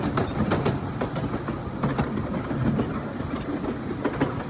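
Wulai mini train rolling along old rails and gradually slowing, a steady rumbling clatter with repeated metallic clicks and a faint high squeal from the wheels, loud and close.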